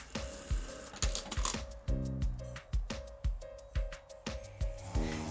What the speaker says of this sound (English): Stitch across the top, that side, and then do the other side there.